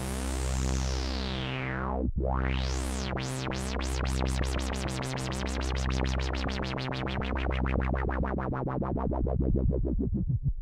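A DIY TS1 synthesizer plays a repeating stepped bass sequence while a sweeping, pulsing tone rises and rapidly modulates above it, bright and buzzy.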